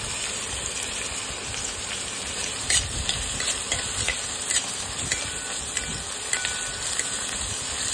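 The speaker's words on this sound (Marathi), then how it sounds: "कांदा टाकलेला आहे, याच्यातच मिरची टाकून घेऊ आपण, म्हणजे ती पण पूर्णपणे आपली मिरची भाजून घेऊ" Chopped onion and green chili frying in a pan for egg bhurji, a constant close sizzle with scattered scraping stirs and light clinks on top, no voices.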